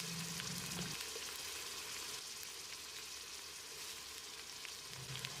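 Four tablespoons of ginger paste fry in oil for Ambur mutton biryani, giving a continuous, close, even sizzle with a few faint stirring scrapes.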